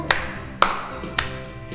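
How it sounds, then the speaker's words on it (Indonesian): Four single hand claps at an even, slow pace, close and crisp, set against soft background music in a Sunday school song. "dengarkan tepuk tanganku"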